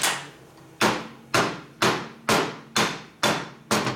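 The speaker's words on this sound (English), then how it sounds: "You got hit with your hammer." A hammer strikes a carburetor seven times in an even rhythm, each sharp metallic knock ringing briefly before the next, loud and close with no talking.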